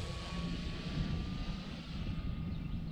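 A radio-controlled Flightworks PT-17 Stearman model airplane in Red Bull colors flies over a park, its engine giving a constant droning whine with steady outdoor wind noise for the whole stretch. No one speaks.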